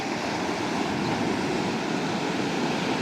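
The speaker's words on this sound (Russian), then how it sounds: "Волны сегодня." Sea waves wash onto a beach in Mersin, Turkey, a steady broadband roar of surf mixed with wind, constant and fairly loud with no voices.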